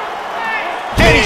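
A heavy single thud as an MMA fighter slams his opponent down onto the mat, arriving suddenly and loudly at the end after a commentator's voice.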